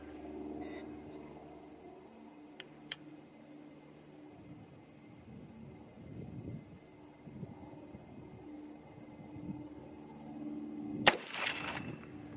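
A 6.8 SPC-II rifle fires a single 100 grain Speer HP round outdoors, a sharp loud crack near the end after a quiet stretch with faint birds and soft ambient noise.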